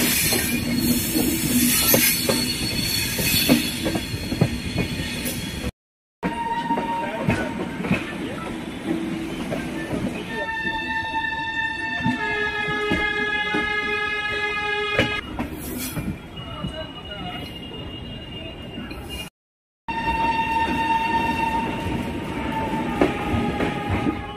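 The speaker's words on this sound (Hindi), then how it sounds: "ट्रेन एंट्री कर रही है समस्तीपुर जंक्शन" A long passenger train from Darbhanga to Kolkata rolls into Samastipur Junction station, steady loud rumble and clatter of the railcars with sustained high metallic wheel squeals, heard close from onboard, without talking.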